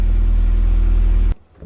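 A Fiat Barchetta's 1.8 16-valve engine revs loudly and steadily up close, a deep sustained roar that cuts off abruptly near the end.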